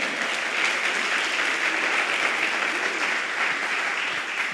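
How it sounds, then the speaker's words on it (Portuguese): A church congregation at a Foursquare (Quadrangular) service applauds steadily, a dense, even wash of many hands clapping at once that holds for several seconds without a break. "Você pode aplaudir a Jesus?"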